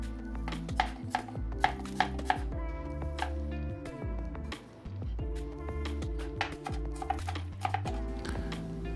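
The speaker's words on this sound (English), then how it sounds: "See how I'm cutting it here? Very fine." A knife finely chops onion on a cutting board, giving quick, evenly spaced taps that sit under steady background music.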